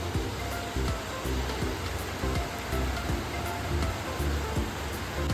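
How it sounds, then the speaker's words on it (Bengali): Steady rain falls outdoors with an even, continuous hiss, moderately loud, while faint repeated taps patter through it. No voices are heard. "আবার বৃষ্টি স্টার্ট হয়ে গেল।"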